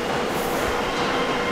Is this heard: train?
yes